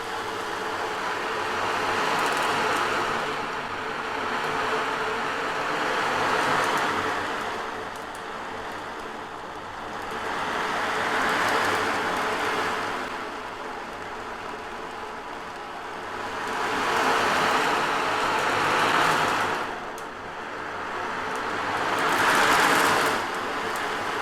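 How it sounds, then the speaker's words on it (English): Ocean drum tilted and rotated slowly, its loose beads washing across the head in soft, hissing surges that swell and fade like waves about every five seconds, close and gentle with no talk. "Another great instrument for creating mood and effect is the ocean drum."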